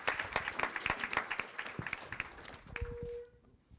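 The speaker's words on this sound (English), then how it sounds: "So one more round of applause for Karen Kiefer" A room of listeners gives another round of applause for an honoree, scattered hand claps that thin out and stop near the end, followed by a brief quiet tone.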